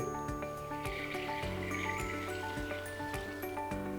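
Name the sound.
stirred water being poured into fermentation bucket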